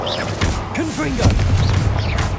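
Booming blasts from the Confringo fire spell in the video game Hogwarts Legacy sound close and loud, with whooshing effects and a heavy impact near the middle over a low rumble.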